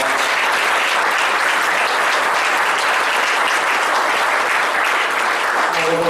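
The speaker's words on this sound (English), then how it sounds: "So we can give them a round of applause." Loud, steady applause from a crowd at a city council public forum in Auburn, many hands clapping in a dense, continuous roar that holds for several seconds.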